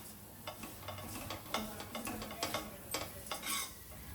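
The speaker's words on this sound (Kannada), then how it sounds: "ಈ ಥರ ಬಿಸಿ ಮಾಡಿದ್ರೆ ಸಾಕು, ತುಪ್ಪ ಹಾಕಿ ತುಂಬಾ ಬೇಗ ಸಾಫ್ಟ್ ಆಗುತ್ತೆ" A laddoo mixture is stirred and fried in ghee in a pan, with repeated scraping strokes of a spoon over a soft, steady sizzle. The strokes are close and fairly even, and no one speaks.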